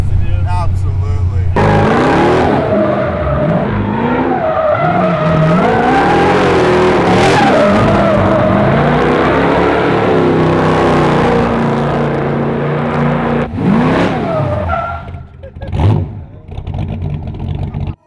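A twin-turbo 1933 Plymouth hot rod revs hard and loud through sustained donuts, engine pitch rising and falling, with people talking over it before a brief drop and a few closing bursts.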